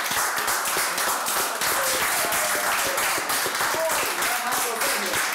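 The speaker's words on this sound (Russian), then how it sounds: "Аплодисменты вам." Applause from the class audience at a salsa dance studio, a steady wash of many clapping hands at moderate level, with voices and a few talking tones underneath throughout.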